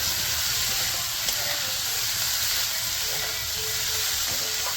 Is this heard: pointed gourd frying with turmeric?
yes